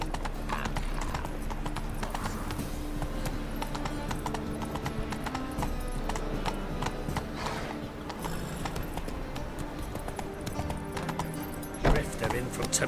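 Roach the horse galloping in The Witcher 3, a fast steady clip-clop of hooves up close with an occasional whinny, running under game music and voices talking.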